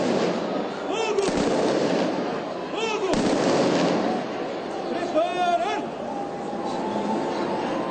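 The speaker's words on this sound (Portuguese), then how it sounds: "a Guarda de Honra da Polícia Militar, que realizou a salva de 21 tiros" A 21-gun salute fired by the Military Police honor guard at an outdoor ceremony, booming shots at intervals sounding far off and echoing under a news narrator's voice.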